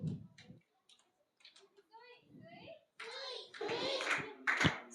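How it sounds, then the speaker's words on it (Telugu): A group of children does soft butterfly claps at a school or church event, with quiet scattered taps at first and then a louder, busier stretch of clapping mixed with young voices nearby. "బటర్ఫ్లై క్లాప్స్ కొడుతున్నారు"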